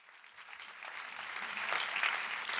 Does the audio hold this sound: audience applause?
yes